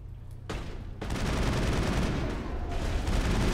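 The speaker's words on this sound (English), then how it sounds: "Jeez, he's taking a crap load of bullets." Sustained gunfire from the video game Mass Effect 1, a dense, loud barrage that swells after a brief quieter opening and keeps up as continuous rattling shots.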